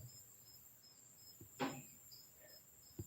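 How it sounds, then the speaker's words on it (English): Crickets chirp in a steady, high, pulsing rhythm at low volume, broken by a couple of soft knocks. "Sounds I have are crickets in the fridge."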